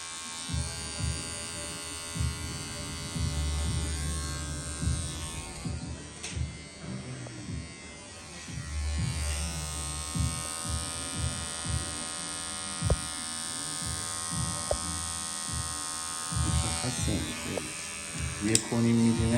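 Electric hair clippers buzz steadily while cutting hair during a classic tapered fade, set to a 3 mm guard with the lever fully closed, humming close and continuous with brief changes in pitch as the blades pass through hair, with a voice underneath.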